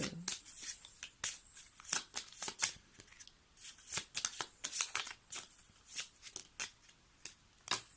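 Tarot cards are shuffled close to the microphone, a run of crisp riffling slaps and flicks in an uneven rhythm over several seconds, with no voice over them.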